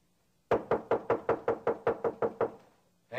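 A fist knocks on a door with about ten firm, evenly spaced raps, loud and close, then stops.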